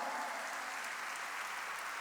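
A church congregation at a worship service claps together, a steady, soft and somewhat distant wash of applause filling the short moment without any voices.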